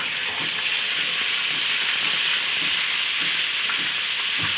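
Ginger garlic paste frying in oil, a loud, steady hiss of sizzling that fills the whole stretch without pause, with faint utensil knocks underneath.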